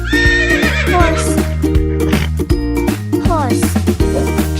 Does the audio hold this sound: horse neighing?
yes